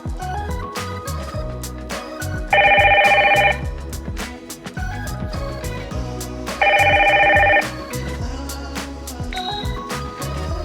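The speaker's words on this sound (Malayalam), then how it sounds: "ഈ സ്വിച്ചിൽ പ്രസ് ചെയ്യുമ്പോൾ അകത്തെ സ്ക്രീനിൽ കോൾ വരുന്നു" A wireless video door phone's indoor screen rings in two loud electronic bursts, each about a second long, with a steady hum and clicks in between.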